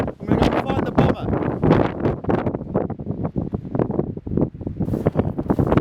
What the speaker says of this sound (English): it's quite blustery at higher shelf stones now